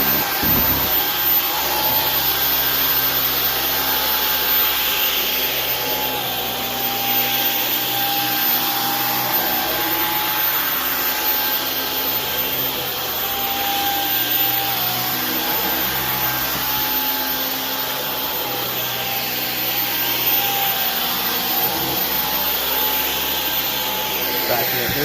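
A vacuum cleaner motor drones steadily and loudly throughout, with a constant high whine and rumbling airflow that barely changes.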